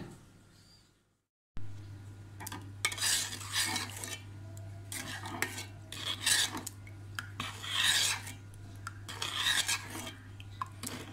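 A spoon scrapes and rasps around a saucepan of sugar and orange cake ingredients in repeated strokes, loud and close, over a steady low hum.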